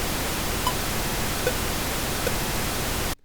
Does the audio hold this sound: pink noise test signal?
yes